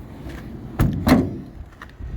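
An emergency exit door on a 2018 Blue Bird electric school bus with rooftop air conditioning swings on its spring and shuts, giving two close, sharp thuds about a quarter second apart over a quiet background.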